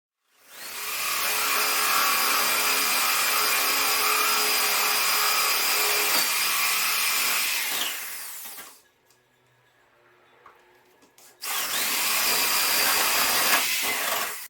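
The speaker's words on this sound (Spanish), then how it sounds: "la madera está por capas y tiende a atascar la punta de la broca" A power drill bores into a layered wooden hollow-core door, a loud steady whirring grind that runs for several seconds, drops to near quiet, then starts again.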